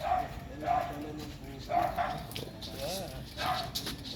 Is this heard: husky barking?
yes